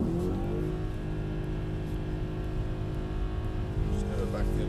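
A car at Brooklands accelerates into a slide, its engine a steady, loud drone with a slight swell near the end. Someone talks over it.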